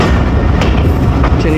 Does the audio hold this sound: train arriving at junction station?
yes